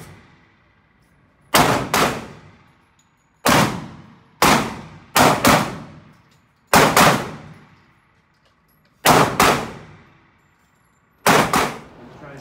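Single shots from a Canik TP9 Mod 2 pistol ring out on an outdoor range, sharp loud cracks with ringing tails, some spaced apart and some in quick pairs, seven bursts in all.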